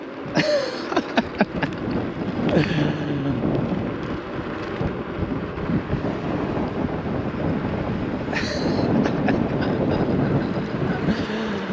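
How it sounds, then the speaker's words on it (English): A vehicle engine at full throttle accelerates to 60 km/h with a loud, sustained roar and rumble. Wind noise and a few sharp knocks are mixed in close up. "let's do a full throttle test here and get it up to 60 kilometers an hour"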